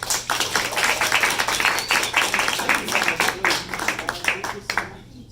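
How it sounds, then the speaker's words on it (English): An audience claps for the artist Verlena at an evening event, a dense steady round of applause that holds for several seconds before fading out at the end. "Please join me in giving Verlena a wonderful round of applause"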